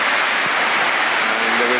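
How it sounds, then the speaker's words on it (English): Crowd applause filling Anfield stadium during a Liverpool versus Manchester United match, a dense, steady wash of clapping from a huge crowd, loud and continuous with faint voices mixed in. "there is applause all around Anfield for Manchester United's absent number 7, Cristiano Ronaldo"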